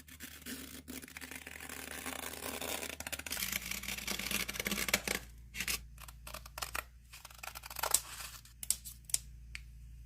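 Scissors snipping through fabric pieces for a Dollar Tree craft project, a run of sharp, irregular cuts and rustling material, close and fairly loud with no talking.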